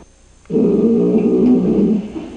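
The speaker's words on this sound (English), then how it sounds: "A strange growl that appeared between interview questions." A strange growl on an interview tape that was attributed to Bigfoot: one loud, low, rough sustained growl about a second and a half long that starts abruptly and then fades, with no talking over it.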